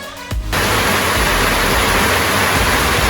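Rain pours outdoors in a dense, steady hiss across a garden and walkway construction site, starting abruptly after a brief moment and continuing loud and unbroken.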